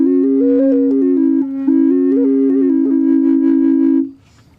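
Native American drone flute with both pipes sounding together: a steady low drone note held beneath a wandering melody on the second pipe, close and continuous for about four seconds with a brief dip before stopping.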